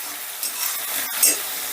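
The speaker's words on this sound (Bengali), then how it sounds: "এবারে এই আদা রসুন বাটাটা একটু ভাজা ভাজা করে নেব" Ginger garlic paste frying in a pan, a soft, steady sizzle with faint stirring scrapes, fairly quiet and close, with no voices.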